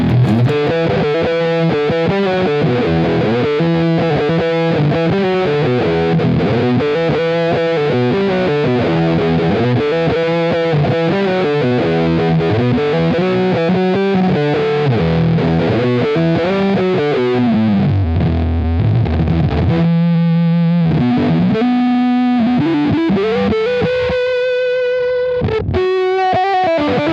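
Electric guitar run through distortion and effects pedals, playing loud sustained overdriven chords and riffs continuously, with a brief quieter passage of single notes before heavy distorted tones return.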